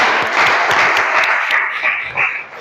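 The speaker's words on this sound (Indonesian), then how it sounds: "tepuk tangan untuk kita semua." A class applauds at the end of a lecture, a burst of brisk, loud clapping that gradually thins and fades toward the end.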